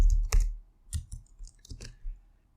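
A computer keyboard clicks with a handful of sparse, quiet keystrokes while a command is typed, irregular taps close by with no talking.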